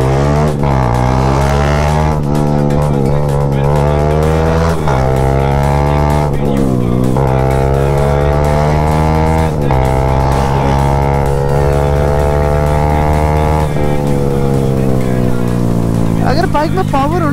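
Engine of a powerful motorcycle being ridden on a highway, heard close and loud throughout, its steady drone rising and falling in pitch as the rider works through the revs, with wind rush and someone speaking over it.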